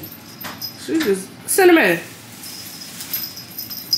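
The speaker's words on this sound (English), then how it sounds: "And then, y'all, look at my dog." A dog gives a couple of short high whimpers, the second longer and louder, while a person speaks briefly nearby in a quiet room.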